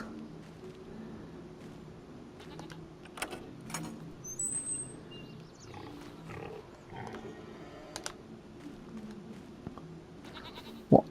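Goats bleat in Farm Sim 25, scattered short calls among other farm livestock noises over a low steady game ambience, moderately near, with no talking.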